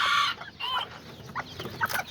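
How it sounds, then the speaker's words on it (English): An Aztec hen clucks in short, separate bursts near the microphone, with a sharper call at the start and softer clucks after it over a quiet farmyard background. "that's my little chicken too"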